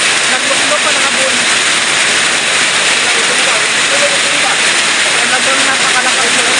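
Heavy rain pours down in a constant, loud, broadband hiss that stays even throughout without pauses.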